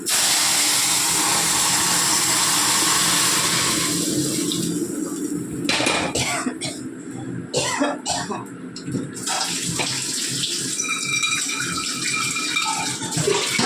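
Water pours steadily into a cooking pot in a loud continuous stream, then breaks into splashy bursts and clatter as the flow changes, close up.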